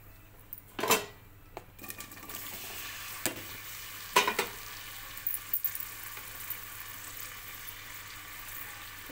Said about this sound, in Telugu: ఆయిల్ హీట్ అయిపోయింది. ముందుగా కట్ చేసి పెట్టుకున్న ఉల్లిగడ్డ పచ్చిమిర్చి ముక్కల్ని వేసుకుందాం.